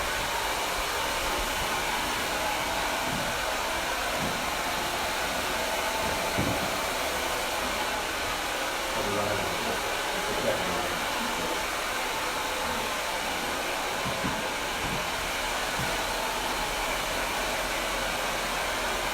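A hair dryer blows steadily while wrap drying a textured bob haircut, a continuous close, even roar with faint handling bumps and no talk.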